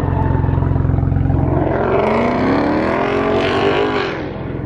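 A BMW 135i fitted with a quad exhaust drives and revs, a loud, close, steady engine drone rising in pitch as it accelerates, with no talking.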